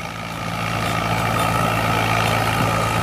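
An Ace 550 50 HP tractor engine drones steadily while working a rotavator in a grassy field, a loud continuous close diesel rumble with a constant low hum and no voices.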